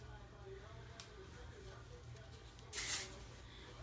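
A single short, sharp burst of hairspray aimed at teased hair, standing out loudly against an otherwise quiet room.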